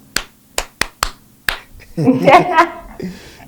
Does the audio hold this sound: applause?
yes